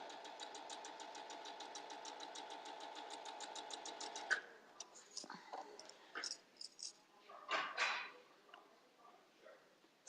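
Sewing machine piecing a quilt block, running in a quick, even, rhythmic stitch for a few seconds before stopping, followed by faint handling clicks and rustles.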